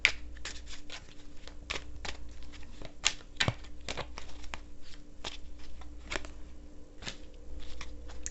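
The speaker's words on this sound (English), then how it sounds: "I like to pull an extra card." Tarot cards being shuffled and pulled during a Virgo reading, a steady run of crisp riffling snaps and flicks with a few sharper card slaps, close and alone with a low hum underneath.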